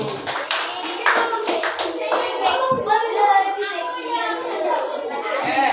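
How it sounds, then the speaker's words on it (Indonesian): Classroom of children clapping for group one, scattered sharp hand claps mixed with chatter and children's voices throughout. "tepuk tangan buat kelompok 1"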